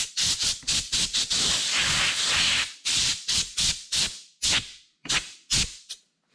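Short bursts of compressed air blow dust off sanded laser-cut wood: a long continuous hiss followed by a series of sharp, separated blasts, loud and close.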